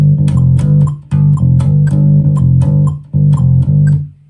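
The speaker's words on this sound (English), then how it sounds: "Let's say we have this simple bass line in G." A bass guitar plays a simple bass line in G, a clean, loud, repeating riff of plucked notes with short gaps between phrases and no voice over it.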